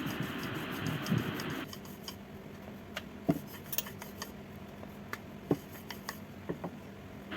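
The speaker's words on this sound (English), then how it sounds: "roll it with a rolling pin" Wheat flour paratha dough rolled out with a rolling pin on a dusted surface, quiet soft rubbing with light knocks and clicks of the pin scattered throughout, close and faint.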